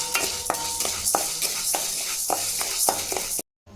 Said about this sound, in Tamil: மிளகு போட்டுக்கலாம் அதையும் போட்டு வறுத்துடுவோம்